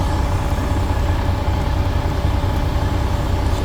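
A large truck engine rumbles steadily nearby with a low diesel drone as it reverses in an icy truck stop lot, faint background noise, no voices.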